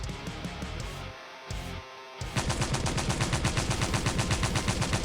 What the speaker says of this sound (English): A shower of bullets comes right toward the recruits.